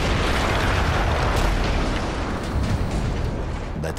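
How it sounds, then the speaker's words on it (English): A big explosion in the World War I shooter game Battlefield 1 gives a loud, sustained, rumbling blast with deep booming and crackling debris, filling the whole few seconds without speech. "That explosion was one of the sweetest sights of the war for me."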